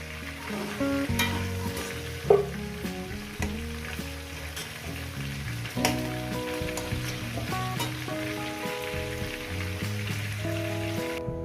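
Chicken pieces for a home-style curry fry in hot oil with a steady, close sizzle and crackle, broken by occasional spatula scrapes and metallic clinks as the meat is stirred, with no voices.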